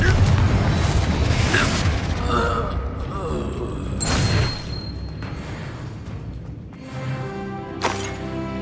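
Confringo explosive spell in Hogwarts Legacy: bursts and booming blasts with mechanical clanks and creaks during a fight, loud and close, while a voice speaks between the bangs.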